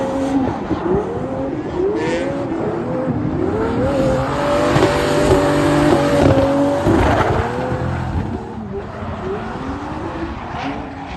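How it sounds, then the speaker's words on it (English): A drift car's engine revs and wails in rising, falling pitch sweeps through a long run of continuous drifting, tires squealing underneath, loud and close throughout. "So this is the video of me trying to drift."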